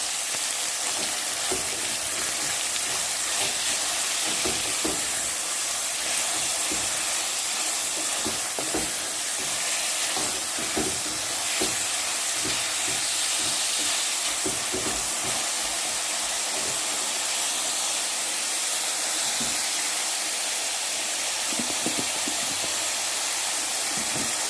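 Carrots and tomato sauté in a pan for ackee and saltfish. A loud, continuous sizzle runs under bursts of scraping and stirring, with no one speaking.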